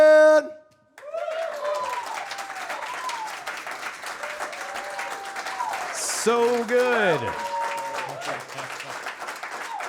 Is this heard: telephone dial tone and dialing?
no